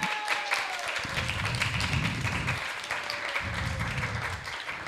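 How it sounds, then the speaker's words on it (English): Temple audience at ISKCON Dallas giving a big round of applause, a full, continuous roar of many hands clapping close and loud, sustained evenly with faint voices mixed in. "I just want to give them both a really big round of applause"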